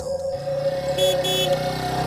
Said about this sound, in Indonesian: ku dengar klakson motor